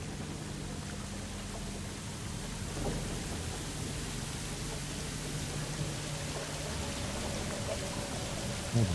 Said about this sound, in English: Oh, the water's overflowing.